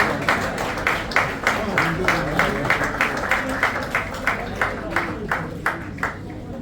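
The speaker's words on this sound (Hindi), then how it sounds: "जोरदार तालियां" Audience at a Hindi-language community event for an assistive and medical aids distribution drive breaks into loud, sustained applause, dense rhythmic clapping running steadily throughout with no break.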